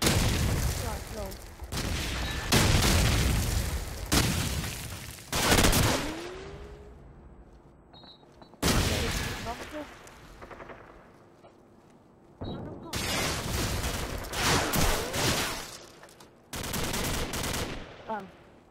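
Bursts of video game gunfire during a multiplayer shootout, several loud broadband volleys separated by brief quieter gaps, with a player talking over the action.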